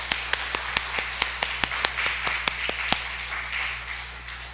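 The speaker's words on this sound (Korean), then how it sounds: "하나님께 영광의 박수 올려드리겠습니다." A church congregation claps in praise during a Sunday service, a steady run of sharp, fairly close claps over a constant low hum, without voices.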